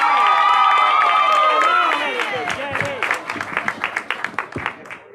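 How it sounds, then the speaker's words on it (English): Crowd at a singing contest claps and cheers for the next contestant, a loud full burst at first that thins into scattered, uneven individual claps toward the end. "let's get those hands together. Nice warm round of applause for our next contestant, Christian Stevenson"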